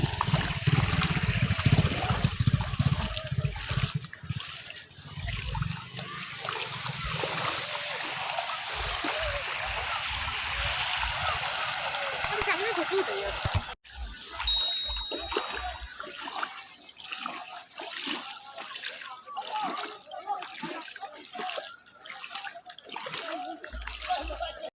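Floodwater flows and splashes continuously through a flood-affected area, a broad rushing wash that drops off abruptly midway, with someone talking over it throughout.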